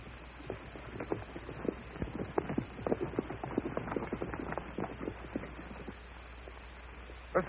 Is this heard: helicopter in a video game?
no